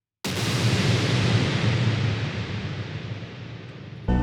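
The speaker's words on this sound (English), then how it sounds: "it just sounds like a freaking gunshot, right?" One huge distorted boom, a processed drum sound resembling a gunshot, hitting instantly and decaying slowly into a long noisy wash, then a short second hit at the end.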